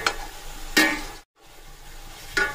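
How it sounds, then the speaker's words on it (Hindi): Meat sizzles in a hot pan with ginger, garlic and bay leaves for chicken biryani, with a couple of louder stirring scrapes and a brief drop to silence midway. "मैं भून लूँगा अदरक लहसुन और तेज पत्ते के साथ में गोश्त को"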